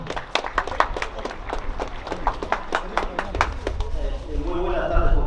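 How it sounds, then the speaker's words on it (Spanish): Audience at a neighborhood anniversary gathering claps for the club president, a run of sharp individual handclaps building into fuller applause, with a voice speaking over the final second. "El aplauso fuerte."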